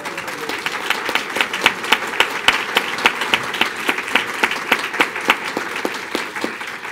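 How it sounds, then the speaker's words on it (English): Audience applause at a justice-assistance keynote, a steady round of many hands clapping in a large room, even and sustained with scattered sharper claps standing out throughout. "just stand and we will all applaud you."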